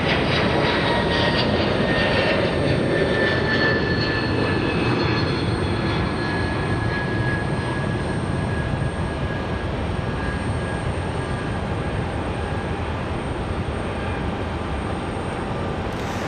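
A jet airliner departs Raleigh-Durham International Airport with a loud, steady engine roar, broadband and sustained throughout, with a faint high whine threading through it and no talk.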